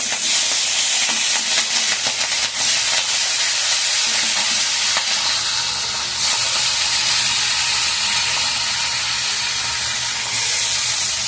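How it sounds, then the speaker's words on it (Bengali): Hilsa fish fry in a pan of hot oil, giving a loud, steady sizzle and hiss up close that runs the whole time, with occasional clinks from stirring and no voices. "এগুলোকে দিয়ে দিচ্ছি, মাছগুলোকে ভেজে নেব।"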